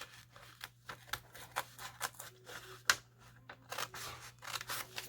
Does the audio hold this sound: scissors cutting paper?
yes